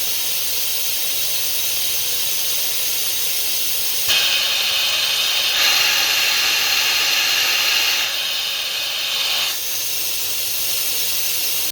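Compressed air hisses steadily from a nozzle, blowing debris out of a valve port on an automotive R-134A air-conditioning system. The hiss is continuous and close, and it swells louder in the middle section before easing back.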